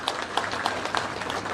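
Audience clapping at a pension distribution event in Bapatla, with a steady patter of fairly faint hand claps heard from a distance in a large gathering.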